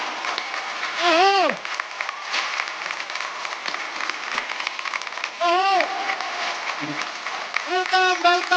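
A television comedy talk show's studio audience claps and cheers loudly in sustained bursts, with a host's voice speaking over the applause throughout.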